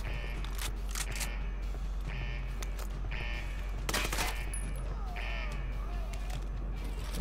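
Bursts of gunfire from the video game Ghost Recon, a few sharp volleys spaced across the clip over steady game background noise, with a voice talking over it at times.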